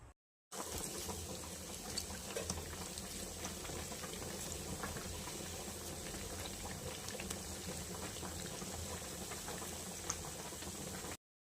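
Lentil and amaranth fritters deep frying in hot oil make a continuous dense bubbling sizzle, steady and fairly quiet throughout, with no voices.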